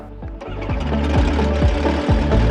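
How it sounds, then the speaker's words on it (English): A Shark light aircraft engine cranks with a few rhythmic starter turns and then catches into a steady running drone, heard close up with no talk. "you can start the engine by pressing the engine start button"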